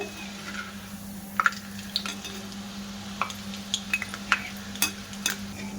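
Jhuri bhaja batter fries in hot oil, a soft steady sizzle with scattered bubbling pops and light stirring clicks, close by, under a constant low hum.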